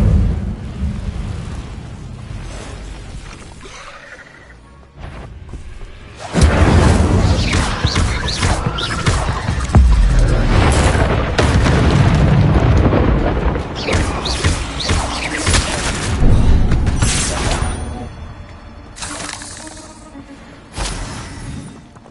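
Incendio fire spell cast repeatedly in Hogwarts Legacy, heard as loud, booming, crackling bursts of flame that surge and roll on for long stretches with brief quieter gaps between casts.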